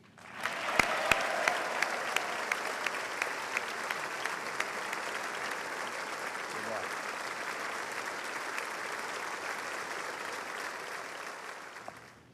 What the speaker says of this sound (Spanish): Hoy podemos oír que lo están ovacionando, que le están dando aplausos